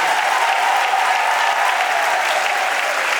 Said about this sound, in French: Je vous demande de les applaudir ainsi que toutes les autorités qui sont devant